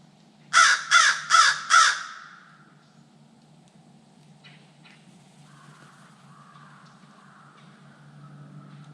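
A crow calls from overhead near the Pithlachascotee River. It gives four loud, evenly spaced caws in quick succession, then fainter bird sounds and a distant answering call follow against quiet natural background noise.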